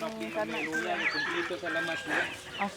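Chickens on a farm in Cebu cluck and squawk repeatedly at close range, a busy overlapping chorus of bird calls throughout.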